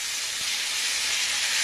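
Diced tomatoes sizzle in frying spice paste for a Bengali potato-and-tomato curry, a loud, steady hiss that continues without a break.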